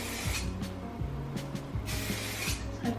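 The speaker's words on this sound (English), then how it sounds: "I like this Wax Blast from Redken. It's like a finishing spray" Redken Wax Blast finishing hairspray sprayed in short bursts, several quick hissing puffs spaced irregularly, close and fairly quiet, with faint clicks and handling noise between them.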